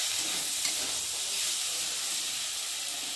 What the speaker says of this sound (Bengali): দিয়ে চিংড়িটা ভালো করে কষিয়ে নেব।